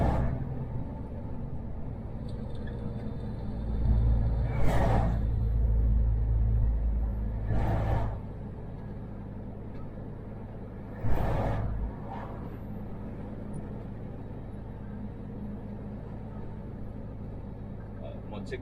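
A car cruises steadily at 55 km/h, a low continuous road rumble with a couple of brief louder swells, and faint voices come and go.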